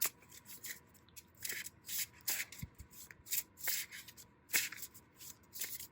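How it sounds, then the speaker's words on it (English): A new deck of tarot cards being shuffled up close, a run of quick papery riffles and rubs coming in irregular bursts, with no voices. "So I'm going to go ahead and shuffle these cards"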